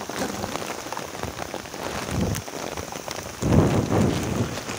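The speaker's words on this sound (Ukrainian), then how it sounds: "Град пішов, друзья." Hail pelting down outdoors during a storm while fishing for pike, a dense, continuous patter of hard drops with heavier bursts of impacts, close and loud, with no talk.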